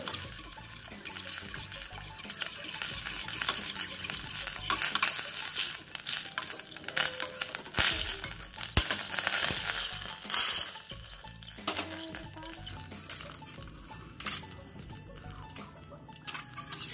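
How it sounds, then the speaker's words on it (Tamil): Coconut oil being stirred in a pan as it heats, soft liquid swirling and light sizzling with a few sharper scrapes, fairly quiet and close, with no voices. "நல்லா இப்படி கலந்து விட்டுக்கிட்டே இருக்கணும்."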